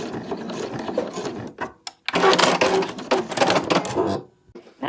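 Sewing machine backstitching the binding on a fabric travel wallet: close, rasping bursts of rapid stitching that start and stop, with brief silent gaps between runs and no talking.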